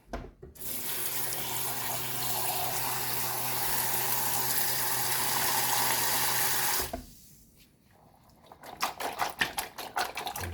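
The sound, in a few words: washing under running tap water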